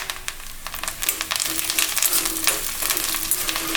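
Curry leaves sauté in hot oil in a pan for radish chutney, giving a bright crackling sizzle with scattered stirring clinks and scrapes, close and fairly loud.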